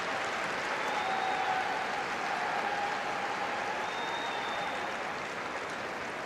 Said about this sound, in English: applause all around the stadium as Lauren Hemp gets back to her feet.